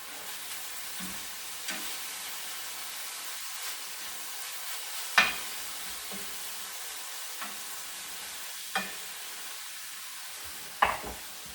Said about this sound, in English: So now I'm going to turn the beef to the other side